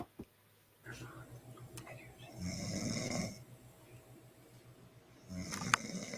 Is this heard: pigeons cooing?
no